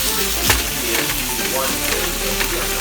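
Ground pork, garlic and onion fry in a hot pan for egg rolls, a dense, continuous close sizzle with small crackles and occasional scrapes of stirring.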